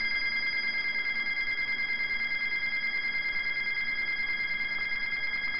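A telephone rings with an unusual ringtone, a steady electronic tone sustained without pause at moderate level, alone with no voices.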